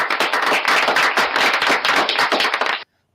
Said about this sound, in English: We'll just give her a round of applause, too.